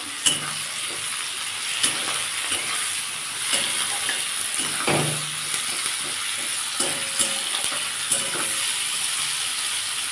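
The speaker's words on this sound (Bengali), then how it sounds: "আমি এটাকে একটু লাল লাল করে ভেজে নেব" Onion, garlic and tomato fry in hot oil with a steady, bright sizzle throughout, broken by occasional clacks and scrapes of stirring.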